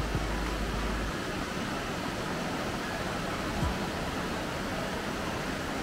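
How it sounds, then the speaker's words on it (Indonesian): A river flows below a glass house glamping cabin at Curug Cipamingkis, a steady broadband rush of water that stays constant throughout, with no voices. "Bawahnya tuh sungai."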